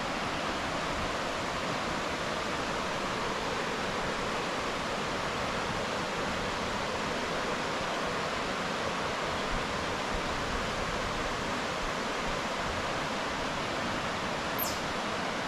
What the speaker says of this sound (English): Hearing the rush of the river.